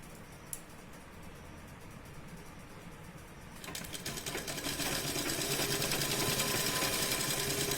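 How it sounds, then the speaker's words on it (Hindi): A sewing machine runs a long side seam on an A-line nighty, starting softly and then settling into a steady, loud, continuous whirr of rapid stitching for the rest of the stretch. "पूरा एक साइड पूरा सिल देंगे।"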